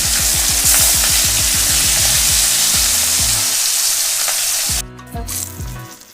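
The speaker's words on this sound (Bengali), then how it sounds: "এবার তেলটা গরম হয়ে গেছে, আমি মাছগুলো দিয়ে দেব তেলের মধ্যে। একটা একটা করে মাছগুলো ভেজে নিয়ে আসছি।" Rohu fish pieces fry in hot oil, a loud steady sizzle with rhythmic stirring or scraping in the pan; the sizzle drops abruptly near the end as the pan quiets.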